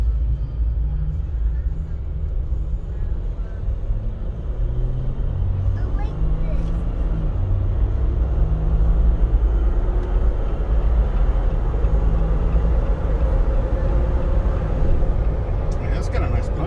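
A 2021 Jeep Wrangler Rubicon EcoDiesel accelerating, heard from inside the cabin as a steady, loud low rumble of engine and road noise building over about seventeen seconds, with voices talking over it.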